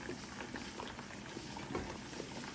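Thick red Christmas jam at a rolling boil in a pot, with steady close bubbling and popping that runs unbroken throughout.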